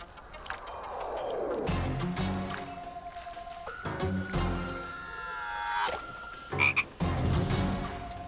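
Frogs croaking in a wild nature setting, a chorus of repeated calls running throughout with varying pitch, fairly loud and close, with some wet clicks and squelches between calls.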